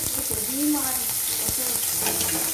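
Prawns fry in a pan of hot oil, giving a continuous close sizzle with soft stirring scrapes and a brief murmur of a voice underneath.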